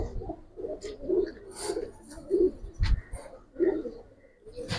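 Lalpatti, khaki and pangkhi pigeons coo in repeated low throaty bursts at steady intervals. The coos sit close and moderately loud, with faint chirps and a little background noise between them.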